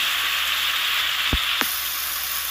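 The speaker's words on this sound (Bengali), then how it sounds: "আদাটা দিয়ে সুন্দর করে নেড়ে চেড়ে যতক্ষণ না আদার কাঁচা গন্ধটা যায় ততক্ষণ ভাজতে হবে" Ginger paste frying in a pan for a thin rui fish curry, a steady close sizzle running throughout with two brief low knocks midway.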